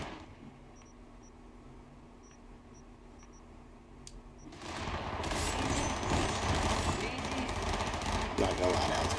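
Rapid gunfire from the video game Cyberpunk 2077 bursts in loudly about halfway through, dense and continuous after a quieter stretch of faint clicks and game ambience.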